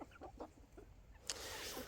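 Backyard hens and a young rooster clucking softly in short, scattered calls, fairly faint, followed by a burst of broadband rustling noise.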